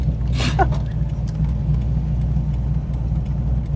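A cammed C5 Corvette engine drones steadily from inside the car while driving, a constant low rumble and whir with a short brief noise burst early on and no clear surge of revs.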